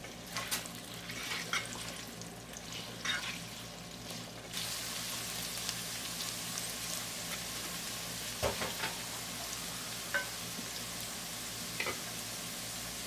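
Taro root and chicken mince frying in a pan for arvi keema, a soft, even sizzle that hisses on steadily at low level with occasional small pops and stirring scrapes, no talking.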